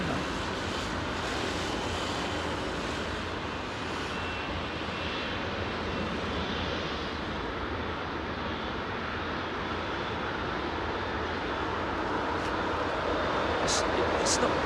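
A fixed-wing airliner landing at Heathrow Airport, heard as a steady, broad roar of jet engine and wind noise that holds at an even level throughout and swells slightly toward the end.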